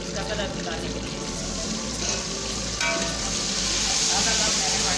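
Water poured into a hot pan of frying dove meat with garlic paste sets off a loud, steady sizzle with bubbling and stirring, growing slightly stronger toward the end.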